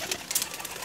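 Golden pigeon of a breed flown in the hot Jeth season, cooing in short soft bursts, close by, with no talk over it.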